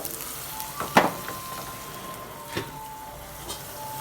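Hot tempering poured into a pot of sambar gives a sharp crackling burst of sizzle, followed by a few fainter pops over a quiet kitchen background.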